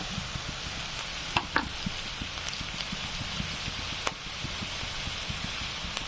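Onion frying in a pan with red chili powder and turmeric added, a steady close sizzle with occasional soft stirring clicks and small pops, no voices.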